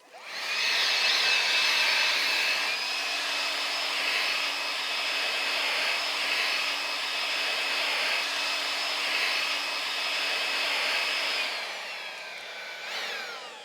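Makita 36 volt cordless battery garden blower running steadily with a high whining fan tone and airy rush, staying loud and constant before winding down near the end.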